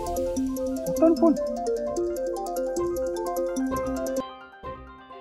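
A melodic phone ringtone plays a repeating tune of tones at moderate level, stopping abruptly near the end.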